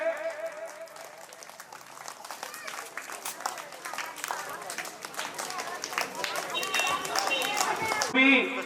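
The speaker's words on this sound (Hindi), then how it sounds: "बच्चों तालियां रुकनी नहीं चाहिए" Children applauding a guest at a school Republic Day program, sustained crowd clapping that grows gradually louder over the clip, with a voice talking over it.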